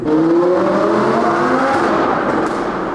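An Audi R8 V10 Plus with a loud new exhaust roars through a tunnel, its engine note climbing and revving hard with strong echoing reverberation, close and dominant, no talk.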